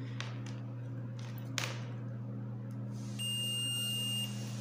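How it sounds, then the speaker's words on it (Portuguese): A steady electronic beep from a multimeter on continuity test, a single sustained high-pitched tone for about a second over a constant low hum, with faint taps before it. "vamos colocar aqui, ó, nessa função de continuidade aqui, ó, de bip"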